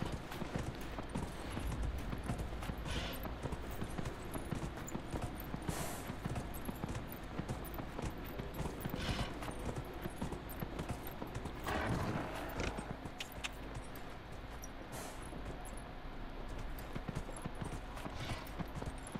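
Steady clip-clop of a large horse's hooves at a walking pace in Dragon Age: Inquisition, with a faint mechanical clatter and ambient background throughout.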